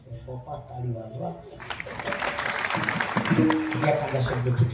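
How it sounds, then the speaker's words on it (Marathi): Applause at a Marathi kirtan gathering held for a pilgrimage to Ayodhya and Kashi: quiet talk at first, then clapping swells and continues steadily to the end while a voice carries on over it. "टाळी वाजवा"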